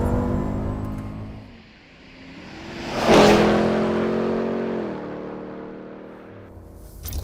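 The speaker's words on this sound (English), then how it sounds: "which they now call the Hennessey Mammoth, quite simply the most powerful, fastest truck in the world" A 2017 Dodge Hennessey Mammoth truck's big engine swells from quiet to a loud roaring pass with harmonic whine, then settles into a steady drone before revving again at the end.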